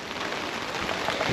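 Steady rain pattering down outdoors beside a weathered 1970 Chevrolet C20 pickup, a dense, even hiss of drops lasting throughout with no voices.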